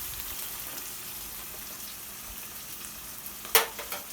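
Caramelized onions cook in a pan as a faint, steady sizzle with soft crackling, and a sharp clatter of utensil stirring stands out near the end.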